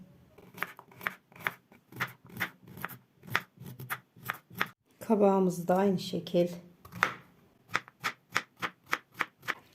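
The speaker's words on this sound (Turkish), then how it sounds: "Bir tane kabağımız, bir tane havucumuz doğrayalım." Regular knife chops through zucchini and carrot on a cutting board, about two per second, pausing briefly while someone speaks in Turkish, then resuming at a steady pace.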